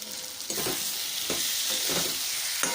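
Egg omelette curry being sautéed in a pan, a steady sizzle with intermittent stirring scrapes and clinks spaced across a few seconds, close and fairly loud with no talking.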